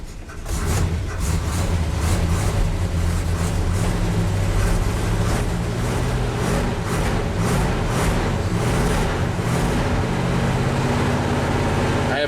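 An old vehicle engine with no choke hooked up and thick oil cranks and catches, then runs on loudly and roughly, rumbling and surging close by for several seconds.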